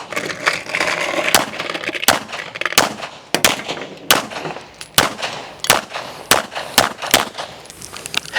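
Pistol shots fired one-handed at a practice range while training for a USPSA match, a rapid run of sharp, loud cracks in uneven clusters, roughly a dozen reports close to the microphone with no talking.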